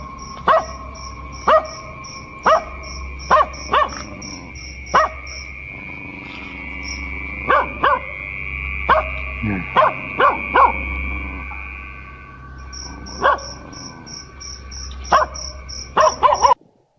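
A dog barks repeatedly in short bursts, fairly close, with pauses between volleys, over a faint steady insect hum at a forest campsite at night.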